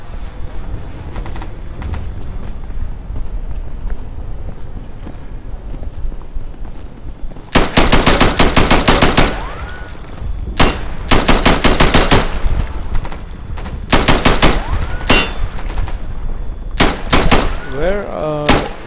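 Gunfire in the Insurgency video game: loud rapid automatic bursts crack out in several volleys, some long and some short, separated by quieter stretches of background game noise and a player talking.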